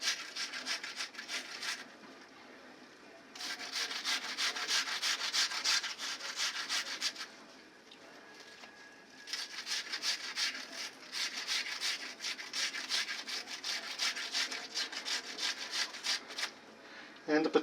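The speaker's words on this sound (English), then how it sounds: "But it's grating or mincing up nicely." Potatoes and onions being grated for German potato pancakes, a steady rough scraping rasp in long bursts with brief pauses between strokes, close and moderately loud.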